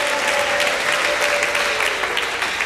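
A church congregation claps hard together in sustained, dense applause that fills the room evenly from start to finish, with no pause and no voices standing out.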